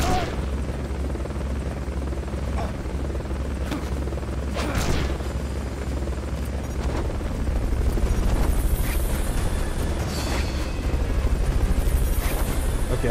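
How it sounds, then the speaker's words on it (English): Helicopter in the video game Metal Gear Solid Peace Walker, a steady low rotor drone running loud and continuous throughout, with occasional brief impacts and clicks on top. "Okay, I think the helicopter saw me."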